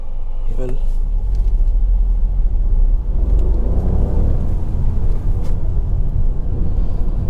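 A Hyundai i20 iMT pulls away and drives on, its engine a low steady rumble with a brief mechanical clunk near the start. Road and cabin noise continue underneath throughout.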